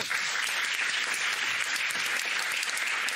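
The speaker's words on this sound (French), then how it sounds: "On peut applaudir Philippe." A TV dating-show studio audience gives steady, sustained applause that fills the space evenly from start to finish, with no talking over it.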